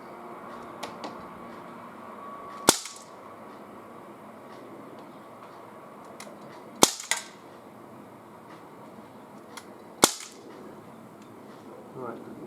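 Gamo MP-9 air pistol fired outdoors, three sharp, loud cracks spaced a few seconds apart over quiet background noise.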